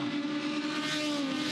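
Aussie Racing Cars race car at Adelaide in 2017 holds a loud, close, steady engine note at high revs without letting up.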